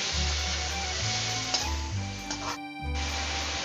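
Chopped onion sizzles steadily in hot oil in a pan at the start of a home chowmein, a dense close hiss running nearly throughout with a brief drop-out near the end, over a low tonal background.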